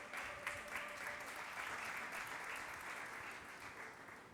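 A church congregation breaks into sustained applause and cheering for the word of God, a steady dense clapping that holds at an even level for several seconds before easing slightly at the end, moderately distant in a large hall.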